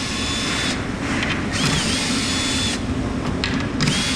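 A screw gun backs screws out of the top of a wooden tote storage rack, making a steady, close whirring drone with brief rises in pitch and a few clicking surges, with no voices.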